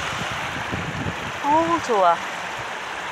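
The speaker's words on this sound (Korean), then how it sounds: "물 흐르는 소리 나죠?" Water flows steadily in a deeper stretch of a stream along a walking path, a broad continuous wash under a man's brief remarks and a short whistle-like call.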